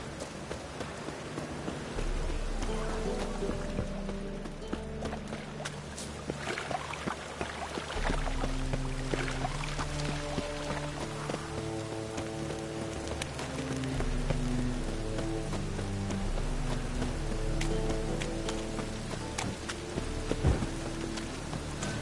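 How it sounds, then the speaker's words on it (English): Steady rainfall in The Witcher 3 on PS4, a constant wash of drops running beneath a game music score with no talk over it. "And it's raining again."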